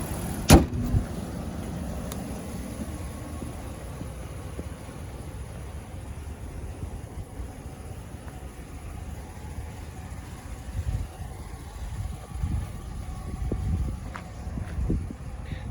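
A 2012 Ram 1500 SLT 4x4 pickup with a 5.7-liter Hemi V8 idles steadily outdoors. A door slams near the start, and the engine hum rumbles on amid faint wind, growing busier toward the end as the truck pulls away.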